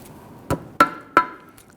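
Pocket screwdriver tapping a small retainer clip free during rear lower control arm replacement on a 2010-2019 Ford Taurus: three sharp, close metallic taps spaced evenly over less than a second, with no voices.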